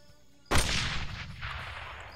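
A single booming gunshot in an X-COM style strategy video game, a sharp sudden blast with a long rumbling tail that fades slowly.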